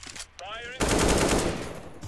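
Gunfire in the shooter CS:GO, a sudden loud burst of rapid shots that follows a brief whooshing game sound and then trails off, with no speech over it.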